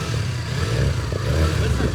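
A Yamaha MT-25 motorcycle engine revs and swells, its rough mid-pitched rumble rising toward the end, fairly close and loud.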